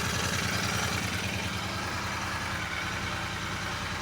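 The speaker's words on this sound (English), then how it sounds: "Engine's running lovely and sweet." A Royal Enfield Interceptor 650 with an aftermarket racing fuel module idles smoothly at a low, even rumble, its steady firing pulses heard close by with no voices.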